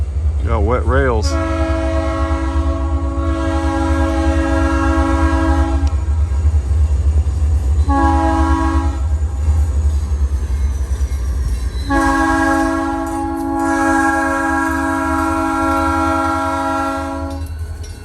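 A Norfolk Southern freight train with a heavy storage-car consist works through a crossing on wet rails, its loud horn sounding in long blasts over a deep, constant engine rumble and rolling wheel noise, close by.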